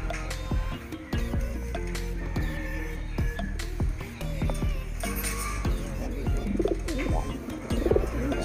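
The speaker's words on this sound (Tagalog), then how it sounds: "So bali ito mga kalapatid" Pigeons in a racing pigeon loft coo and call steadily throughout, overlapping soft throaty coos with occasional chirps and light rustling, fairly close and continuous.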